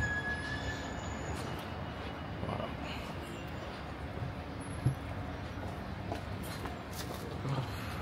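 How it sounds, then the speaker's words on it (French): A metro train in China rides along with a steady rumbling roar of wheels on rails and faint squeals, heard from inside the carriage. "je vais prendre le métro"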